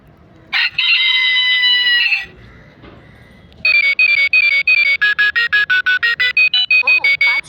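A talking watch's alarm tone mimicking a rooster crow: one long electronic crow, a pause, then a rapid run of short beeping crow-like pulses, loud and close.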